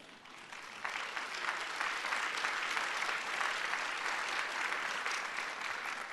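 Audience at a PhD convocation ceremony applauds in a steady, full round of clapping that swells after the first second and holds evenly, moderately distant in a large hall.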